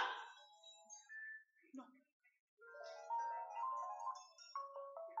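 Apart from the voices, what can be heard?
mobile phone ringtone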